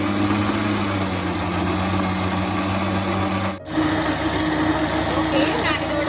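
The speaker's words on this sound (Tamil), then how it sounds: "இனி நான் கொஞ்சம் கொஞ்சமாக ஐசிங் சுகர் சேர்த்து அடிக்க போகிறேன்." An electric mixer beats butter icing as icing sugar is added bit by bit, making a steady mechanical hum that cuts out briefly partway through and then resumes.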